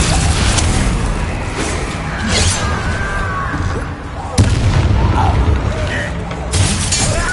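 The fiery Confringo spell blasts in the Hogwarts Legacy video game, with loud crashing explosions and shattering bursts, one sharp hit midway and another near the end, amid continuous combat noise and shouted spell voices.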